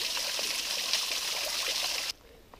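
Alkaline spring water gushes steadily from a forest source into a bottle, a loud, close rushing flow that cuts off abruptly near the end, leaving faint ambience.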